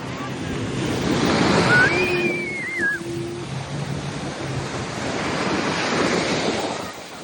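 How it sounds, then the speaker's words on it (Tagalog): Ocean surf washing in at Pattaya Beach, Thailand, a steady broadband roar that swells twice under light wind noise, with a brief whistle-like tone in the middle and no speech. "waves."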